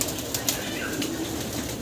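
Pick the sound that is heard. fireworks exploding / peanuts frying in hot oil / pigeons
pigeons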